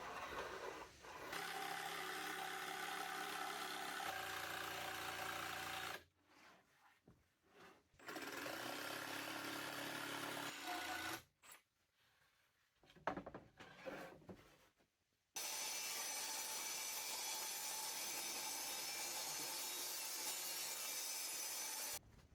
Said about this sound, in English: And then I'm going to cut out with a jigsaw